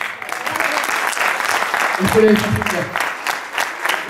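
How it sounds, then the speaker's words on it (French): An audience applauds after a card magic trick at a Téléthon charity show in Auchel, a dense wash of clapping throughout while someone talks over it close by. "Et on peut l'applaudir bien fort."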